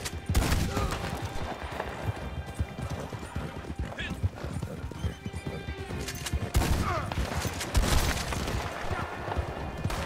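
Gunfire in Red Dead Redemption 2 online, covering fire as repeated shots among horse hooves and whinnies, with someone talking over the action throughout.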